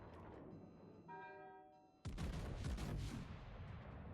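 A World of Warships main battery salvo from the German battleship Preussen cracks suddenly and loudly midway through. A short tonal horn-like sound comes first, then a heavy booming roar that rolls on and slowly fades.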